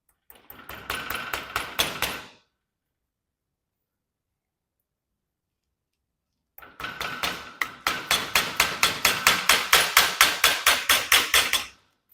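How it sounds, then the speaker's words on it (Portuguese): Repeated hammer blows drive a pin out of a stationary handbrake lever clamped in a vise, a short burst of strikes followed after a pause by a longer run of steady, sharp metallic taps, close and loud. "Agora a gente vai bater um dos pinos. Esse pino que eu alinhei na morsa ali agora."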